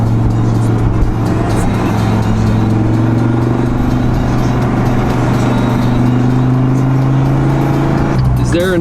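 A sports car engine holds a loud, close, steady drone with the pitch creeping slowly upward, as if revving gently, then settling near the end.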